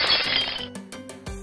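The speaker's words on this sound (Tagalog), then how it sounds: "anong nabasag mo?" A ceramic vase shatters indoors, a bright crash of breaking pieces followed by a few scattered clinks and rattles as fragments settle.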